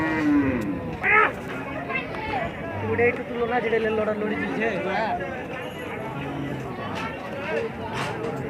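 Large bulls at a cattle market, deep moos rising over a constant crowd of talking voices and chatter, the animals close and fairly loud.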